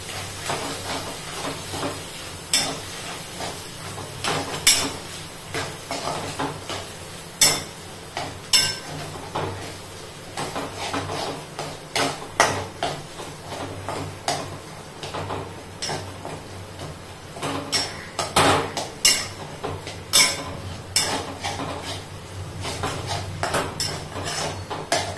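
A spiced potato filling is mixed in a bowl with a spoon, producing irregular clinks and taps against the dish over a steady hiss, loud and close with no talk.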